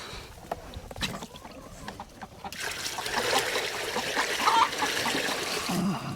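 Water trickling and splashing into a chicken waterer being refilled, starting soft and growing into a louder steady pour midway, with faint clucking from nearby chickens.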